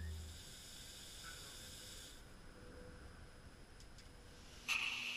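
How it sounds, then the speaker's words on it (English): Pressurized water sprays in a steady hiss from a leaking water rocket nozzle during a pressure test, continuous and fairly close, with a brief louder burst near the end. "And here's the nozzle leak from another angle."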